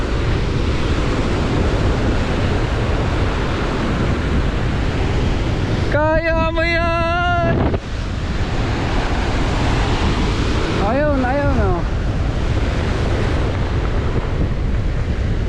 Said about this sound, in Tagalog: Grabe ang alon, lalakas.